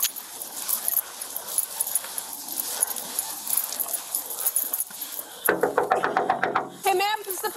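A dog whimpers and whines near a house on fire, the high thin cries coming in short bursts close by over a busy outdoor background of commotion.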